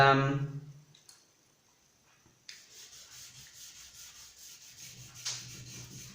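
A Scotch-Brite pad of about 1000 grit scuffs freshly lacquered clear finish on a guitar body, a steady close rubbing hiss that starts after a short quiet pause and continues evenly.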